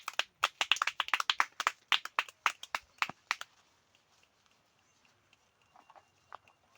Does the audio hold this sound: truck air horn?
no